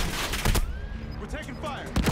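Call of Duty: Modern Warfare gunfire: a few sharp shots crack out at the start and again near the end, with chattering battle noise and a radio voice in between.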